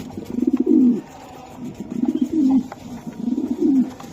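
A pigeon coos close by in three repeated throaty, rolling phrases with short pauses between them.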